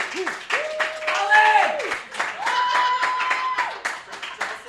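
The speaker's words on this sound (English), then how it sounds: "Stop clapping." A live audience at a dating game show claps in a steady burst, with whoops and voices rising over the applause throughout.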